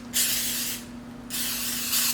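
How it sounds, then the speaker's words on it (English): Nonstick baking spray hisses into a muffin tin in two close, loud bursts, with a short pause between them and a faint steady hum underneath. "So let me spray my muffin tin and this will be ready."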